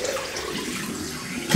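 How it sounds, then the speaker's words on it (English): Water splashes and trickles steadily into a container, a close, continuous pouring sound with no talking. "Right, I'm putting some water in here."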